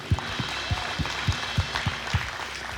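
A church congregation claps in steady unison during the offering, sharp regular beats roughly every quarter second over a soft, sustained background hum.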